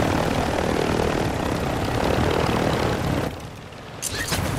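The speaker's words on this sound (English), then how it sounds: "we have a chopper right here on police station" A helicopter in a video game hovers near a police station. Its engine and rotor give a loud, continuous drone that drops away sharply near the end, then a short burst of noise follows.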